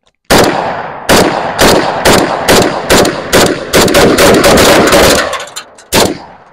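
An AK rifle fires at a pool table, a loud, close string of about a dozen sharp shots in uneven quick succession, with a short pause before one final isolated shot.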